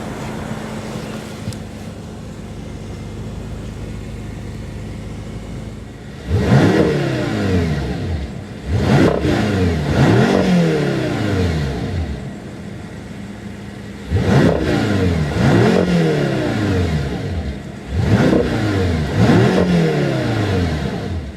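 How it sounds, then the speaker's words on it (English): A 2014 BMW M6 Gran Coupe engine revs hard in four repeated bursts, each sharp rise in pitch falling back to idle, loud and close with no talking. "The engine feels very light, nice and free revving, and gives a very unique exhaust note"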